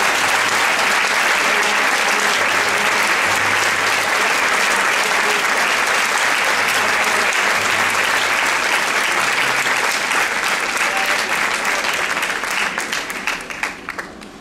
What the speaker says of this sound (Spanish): Un aplauso para Samuel